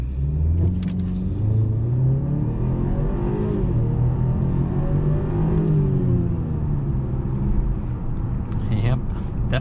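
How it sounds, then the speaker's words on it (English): A 2021 BMW 530i xDrive in sport mode launches hard after brake boosting, its engine rising in a loud sustained drone and rumble while a person talks over it from inside the cabin. "Let's go ahead and do a quick acceleration right here in sport mode. And we're gonna go ahead and brake boost it"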